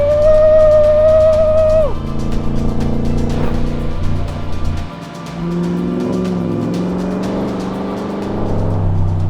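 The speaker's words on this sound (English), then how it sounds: "It's the Coyote engine from the Ford Mustang." A loud Ford Coyote V8 engine in a Shelby Cobra CSX10000 rumbles close by, revving high, then dropping off and building again in deep, throaty surges.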